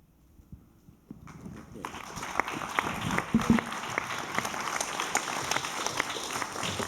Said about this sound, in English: let me hear one more round of applause for Cornel West, for Carl Dix